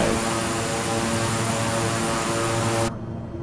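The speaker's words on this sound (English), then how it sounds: "So this here is a King Air 350." A King Air 350 turboprop in a flight simulator game drones with a loud, steady engine roar that holds evenly for about three seconds, then drops away abruptly.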